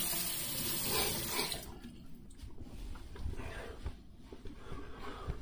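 Tap water runs steadily into a sink as a Merkur 45 razor is rinsed, a loud broadband rush that drops partway through to a softer, splashing trickle with small irregular splatters, close by and with no talking.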